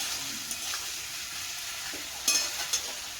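Meat sautés in a pan with onion paste, a soft, even sizzle, with a few quick stirring scrapes toward the end.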